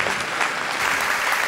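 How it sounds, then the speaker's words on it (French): A brief burst of loud, close audience applause at a New Year greetings ceremony, many hands clapping densely and evenly. "On peut l'applaudir, s'il vous plaît."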